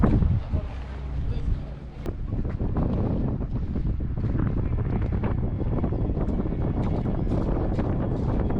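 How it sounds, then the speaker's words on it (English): Public ferry boat running out to Faro Beach in the Algarve on a calm day, its steady engine rumble and water noise continuous and fairly close, with light wind buffeting the microphone. "Here's the public boat to Faro Beach."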